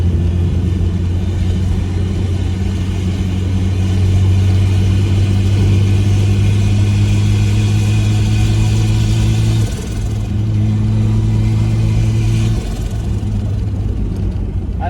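Loud, steady engine drone from a Nissan Patrol with a Barra engine running about 6 PSI of boost through a bigger turbocharger, a continuous near rumble with a rising whistle and a brief dip before it picks up again.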